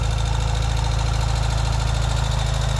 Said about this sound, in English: you can hear it go straight to a high idle